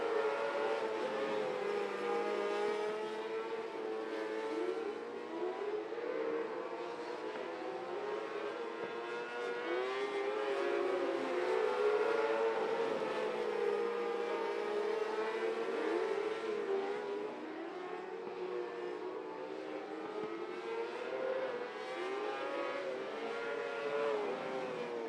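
A field of 600 mini sprint race cars running a heat race on a track, their engines wailing and revving continuously in overlapping, rising and falling howls, loud and sustained with no voices over them.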